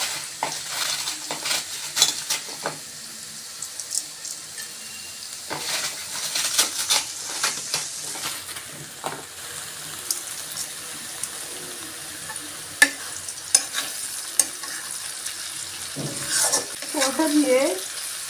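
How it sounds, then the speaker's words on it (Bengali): White potatoes frying in a pan with coriander leaves, with intermittent sizzling and scraping stirs of a utensil against the pan, close and moderately loud with clattering touches. "এই তো আলু ভাজিটা হয়ে আসছে।"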